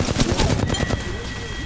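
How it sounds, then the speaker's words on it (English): A P-2020 pistol in a video game fires a quick burst of close, loud shots in rapid succession, then the firing trails off within about a second. "That dude's shooting a freaking P-2020"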